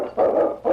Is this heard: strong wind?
no